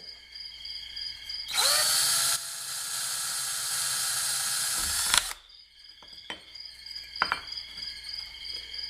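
A drill fitted with a step bit runs loudly and steadily for several seconds while drilling holes in a pedal board DC breakout box, then cuts off, leaving faint clicks and rattles over a quiet hum.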